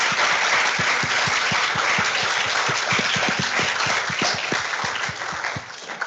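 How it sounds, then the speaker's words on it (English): An audience at a Web3 entrepreneurship panel applauds the panelists; a moderate round of clapping from a room full of people, with distinct individual claps standing out and tapering off near the end. "Could we just give them a round of applause"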